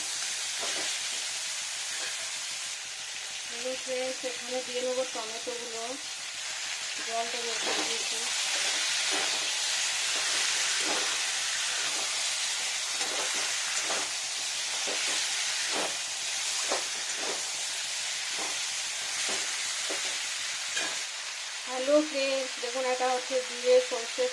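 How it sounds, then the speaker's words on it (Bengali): Vegetables for niramish shukto, a Bengali mixed vegetable dish with bitter gourd, eggplant, raw banana, potato and lentil dumplings, frying in mustard oil: a steady low hiss and sizzle runs throughout, with a voice talking over it at intervals. "আর একটু ফ্রাই হবে লবণ দেওয়ায়"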